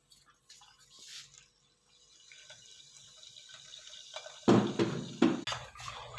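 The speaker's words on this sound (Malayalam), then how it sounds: "അപ്പോൾ നമ്മൾ ഇതിലേക്ക് ഇത് ഒഴിക്കുകയാണ് മിക്സ് ചെയ്യാനായിട്ട്" Liquid is poured into 7up to mix a drink, a quiet trickle at first, then a louder, close splashing pour near the end, with no talk.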